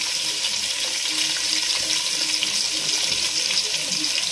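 Chopped onions sizzle in a pan for mutton white pulao, giving a constant, fairly loud hiss of frying with no talk over it.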